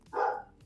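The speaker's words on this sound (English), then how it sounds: "I don't know what he's barking at. Can you guys hear the bark?" A single dog bark, fairly close and moderately loud, standing alone against a quiet background.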